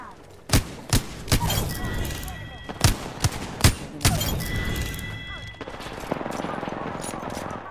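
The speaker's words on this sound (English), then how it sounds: "I'm getting shot at." Video game gunfire: a rapid series of loud, close shots in an irregular rhythm, then a denser clattering burst toward the end, with players talking over it.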